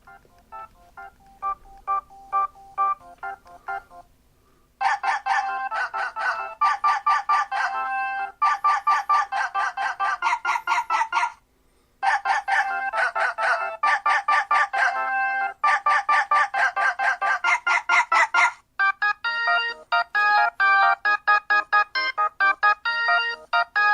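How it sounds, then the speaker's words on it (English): An electronic ringtone plays alone in repeated bursts of bright, chirpy tones, with short pauses between phrases and a different melody at the end. "Here's my favorite ringtone."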